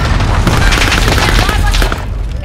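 A loud, rumbling RPG rocket explosion with crackling gunfire in Call of Duty: Warzone, dense and booming, filling the whole short burst.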